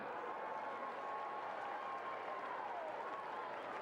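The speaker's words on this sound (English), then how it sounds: "let's give one more round of applause" An audience at a 2021 state high school football championship ceremony applauds in a steady, dense wash of clapping throughout, moderately distant, with a thin sustained tone running over it.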